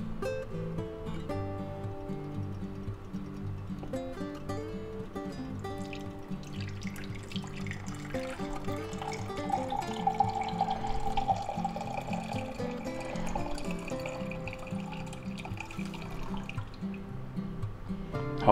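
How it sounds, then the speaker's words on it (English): Au jus poured into a Pyrex pitcher, a steady trickling and splashing stream of liquid that runs continuously for several seconds, close and moderately loud, with no talking. "we'll take our Au Jus and we'll pour that right in there"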